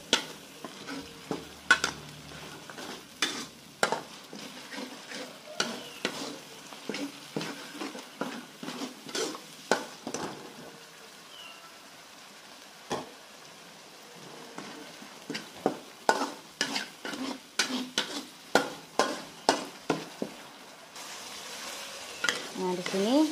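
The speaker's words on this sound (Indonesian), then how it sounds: "Dan kita tumis sampai harum." Spice paste for ceker mercon, spicy chicken feet, sautéing in cooking oil in a pan: a steady close sizzle broken by frequent sharp scrapes and knocks of a utensil stirring, with no talking.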